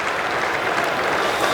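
Steady applause from a cricket crowd at an England v India Test match, a dense wash of clapping that carries evenly through the whole stretch at a moderate distance.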